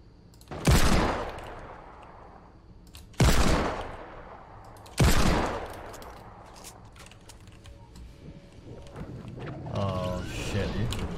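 Three loud, sharp gunshots from a Desert Eagle pistol in the video game Fortnite, spaced a couple of seconds apart, each ringing out with a decaying tail, followed by game noise and a brief musical cue.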